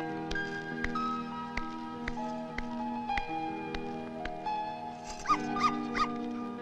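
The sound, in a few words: dog barking and whimpering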